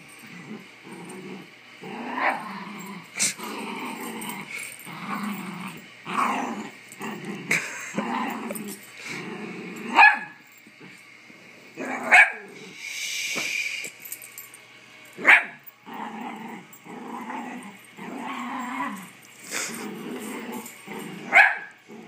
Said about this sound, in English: Hey, buddy. Good dog.